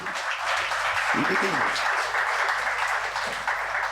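A church congregation claps together at an anniversary festival service, a broad, steady wash of applause lasting the whole stretch while a voice speaks over it.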